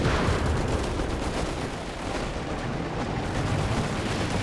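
Grenade blasts and gunfire from Company of Heroes 3 form a dense, continuous barrage of rumbling booms and crackling shots at moderate level, with no clear pauses.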